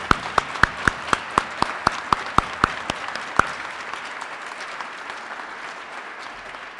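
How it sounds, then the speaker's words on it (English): Audience applauding the nine finalists at the Kentucky Teacher of the Year ceremony: a dozen sharp, evenly spaced loud claps ring out over a steady wash of crowd clapping that fades gradually over the following seconds. "Let's take this opportunity to give all nine of our finalists a round of applause, please."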